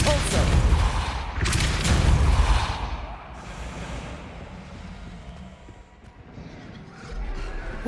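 A Bombarda blasting spell explodes in Hogwarts Legacy with two loud, booming bursts in quick succession, followed by a long rumbling, crackling decay that fades out gradually.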